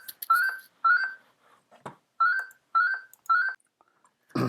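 A telephone rings in short, evenly spaced electronic tone bursts, about six close, clear pulses in a quiet room.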